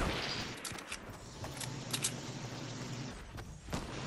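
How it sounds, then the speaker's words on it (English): Gunfire in Fortnite comes as a few sharp, fairly quiet shots spaced irregularly across about four seconds over a low background rumble. "I'm gonna shoot him."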